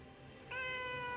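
A cat gives a single soft, drawn-out meow in reply, a clear tonal cry that starts partway through and holds steady in a quiet room. No speech.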